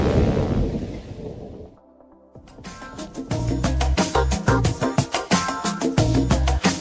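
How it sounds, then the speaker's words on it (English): Rain and thunder break out during an outdoor family barbecue: a broad rumble and wash of rain fades briefly, then returns as dense, loud patter with sharp cracks and booming low thumps, with no voices. "Oh no, it's raining!"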